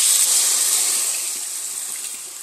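Water pours steadily into a pan of potato and pointed gourd curry with a close, bright hiss. The sound fades a little as the pour goes on.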